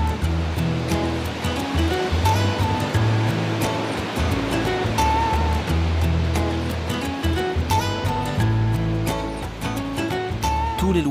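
Ocean waves and surf roll in steadily along the Durban shore in South Africa, a loud, continuous wash of breaking water with some low rumble underneath.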